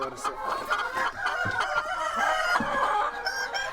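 Hens clucking and a rooster crowing inside a Korean farm henhouse, a busy, steady chorus of overlapping calls close by, with no voices.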